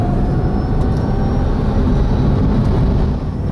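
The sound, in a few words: electric car accelerating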